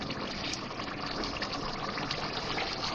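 Water poured into sizzling masala while frying beef nihari, producing a steady, loud gushing and hissing wash of liquid with no talk over it.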